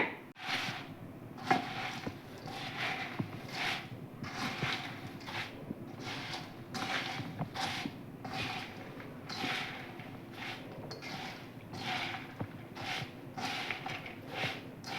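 Puffed rice bhel is tossed and mixed with coriander chutney in a bowl, giving a soft, repeated rustling and scraping at a steady rhythm, quiet and close, with no talking.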